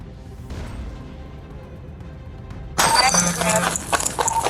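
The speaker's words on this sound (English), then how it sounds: "suspects were smashing jewelry displays with a sledgehammer" Glass jewelry display cases shattering under sledgehammer blows in a shopping mall at night: a sudden loud crash of breaking glass erupts after a quiet stretch, followed by continued smashing and tinkling debris.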